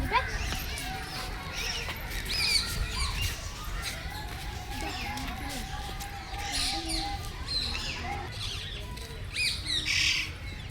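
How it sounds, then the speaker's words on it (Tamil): Indian (Alexandrine) parakeet squawking repeatedly at a children's park, shrill calls rising over constant crowd chatter and voices nearby. "இந்திய பெருங்கிளியா?"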